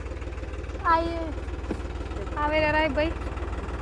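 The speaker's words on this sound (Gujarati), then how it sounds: "ફાઇનલી જો ટ્રેક્ટર ચાલવાની શરૂઆત કરી છીએ." A tractor engine runs steadily in a farm field during summer peanut sowing, its low, even rumble continuing throughout while people talk over it nearby.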